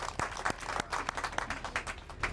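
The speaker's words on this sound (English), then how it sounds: "So round of applause for Amy." A small outdoor gathering at a harbor dedication ceremony for a sling lift applauds, a modest, fairly quiet patter of separate claps from a limited group, irregular and a little distant.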